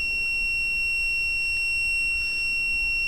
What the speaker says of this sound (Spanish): Si tiene alarma el probador, pues va a sonar la alarma también